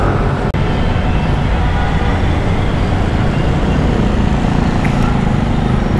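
Heavy road traffic rushes past a motorcycle rider as a dense, loud, continuous roar of engines and tyres, with a single sharp click near the start and no voices over it.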